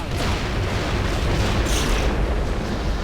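Heavy weapon fire from a ship in the video game Descent 3, shooting at a switch: loud, booming blasts that roll together into an unbroken, rumbling barrage, with a brighter crack partway through.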